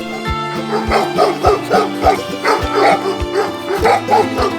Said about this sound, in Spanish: en cuanto escuchamos los ladridos cercanos ya hay que ir con más tiento